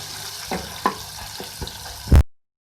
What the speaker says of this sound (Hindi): मैं इसमें ऐड करूँगी 1 खाने का चमचा अदरक लहसुन का पेस्ट। इसको भी फ्राई करेंगे थोड़ा इसके साथ।